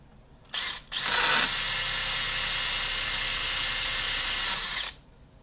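A drill bit grinds into a cast iron distributor gear with a close, loud, steady high-pitched whine. A brief burst comes first, then one continuous run of about four seconds that cuts off abruptly, with no talk.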